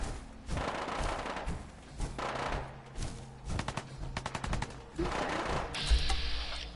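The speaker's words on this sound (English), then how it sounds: "Where are the gunshots coming from?" Rapid bursts of automatic gunfire and single shots from the video game Fallout 4, with several clusters of sharp repeated reports at a moderate distance, alone and without talk.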